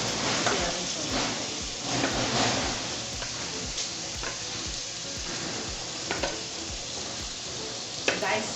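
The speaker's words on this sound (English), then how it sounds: "And the pepper, the atarodo, scotch pepper, we mix it very well." A mix of atarodo scotch pepper stirred in a sizzling pan, with continuous frying crackle broken by repeated scraping strokes and occasional utensil taps.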